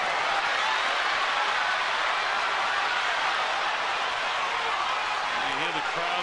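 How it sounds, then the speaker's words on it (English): Crowd at a professional boxing match between Pacquiao and Bradley, a continuous loud roar of cheering and clapping filling the arena, constant and broad with no distinct pauses. "You hear the crowd's reaction."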